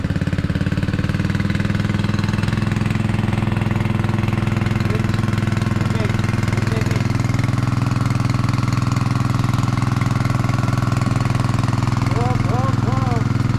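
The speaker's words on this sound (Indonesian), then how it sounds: "Nyalain mesin untuk sirkulasi." A loud, steady well-drilling engine drones continuously with a low, chugging rumble, circulating water for a groundwater borehole, with occasional faint chirping sounds above it.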